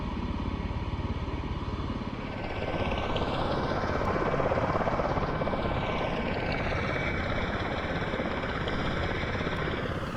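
A Miltech MV-22 Osprey tiltrotor in Microsoft Flight Simulator drones steadily with a loud, pulsing rotor and engine roar during an ILS approach, its pitch sweeping slowly over about ten seconds with no voices.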